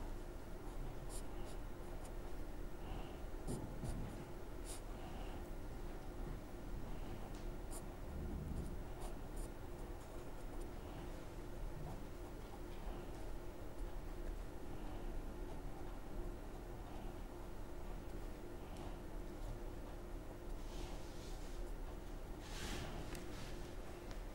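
Writing on a board during a chemistry lecture, faint continuous scratching and tapping strokes under a steady background hiss, with occasional soft knocks.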